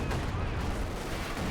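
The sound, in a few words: gunfire bursts in video game Company of Heroes 2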